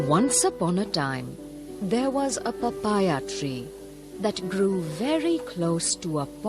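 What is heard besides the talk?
None of the usual background noises is heard.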